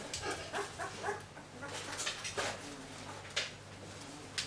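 Twelve-day-old Bully Kutta puppies in a box whimper and yip. The soft, high cries come in repeated small bursts, close by, over a low background hum.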